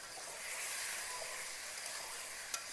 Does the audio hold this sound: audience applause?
no